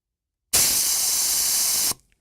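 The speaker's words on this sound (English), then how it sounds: "It might need oil because I feel like it's getting a lot louder" A loud, steady broadband hiss of an air compressor that may need oil runs for about a second and a half, starting and cutting off abruptly, close by and alone.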